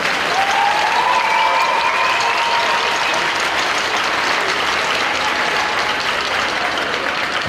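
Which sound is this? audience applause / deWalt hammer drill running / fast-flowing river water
audience applause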